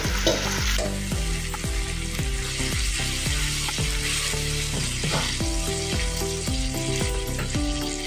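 Leftover plain dal seasoned with turmeric and salt is stirred in a pan, a steady sizzle under repeated scraping strokes of a spoon against the metal, close and continuous, with no talking.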